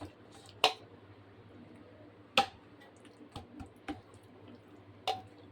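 Fish being mixed by hand with salt and chilli, giving scattered wet squishes and sharp clicking slaps at irregular intervals against a quiet, faintly humming background.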